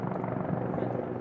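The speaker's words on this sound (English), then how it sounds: "a solitary helicopter has been buzzing the nation's capital" A helicopter flying over Washington, D.C. gives a steady, dense rotor drone that fills the whole moment without breaks, with a voice speaking over it.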